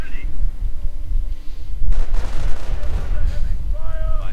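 Gunfire and artillery in the Company of Heroes real-time strategy game, with a dense rumble of shots and blasts that swells after the first two seconds, running continuously under a commentator's voice.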